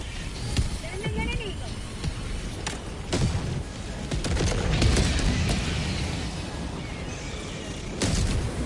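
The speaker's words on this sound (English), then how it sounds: "The explosions reshaped the zone." Explosions in the video game Helldivers 2, a string of sharp booms and bursts scattered over a dense battle rumble, loud and close, with a voice talking over parts of it.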